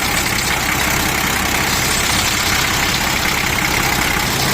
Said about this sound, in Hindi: इसके इंजन में कुछ एक्स्ट्रा आवाज़ें हैं इधर से आ रही हैं